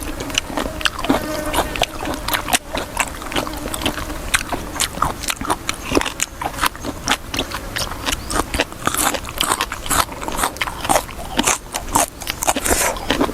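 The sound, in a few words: crunchy biting and chewing of spicy cuttlefish salad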